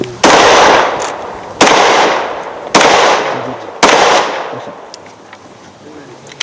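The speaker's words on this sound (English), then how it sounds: "This is the 9mm pistol." Four loud, sharp 9mm pistol shots ring out at uneven intervals, each followed by a long echoing decay, outdoors at a public event.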